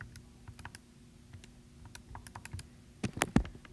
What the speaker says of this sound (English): if we type that into our calculators,